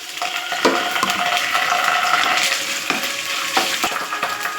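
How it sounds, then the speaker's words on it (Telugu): Onions frying in a pan for gongura prawn curry, a loud continuous sizzle close up with repeated stirring scrapes throughout. "బాగా రెడ్ కలర్ వచ్చేంత వరకు ఫ్రై చేయాలి."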